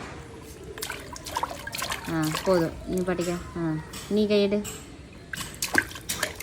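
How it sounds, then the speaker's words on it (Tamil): Water poured and dribbling downward during a small child's water play, soft trickles and drips running under a woman's close, continuous talk and a voice. "தண்ணி வேற கீழே கீழே ஊற்றுறோம்."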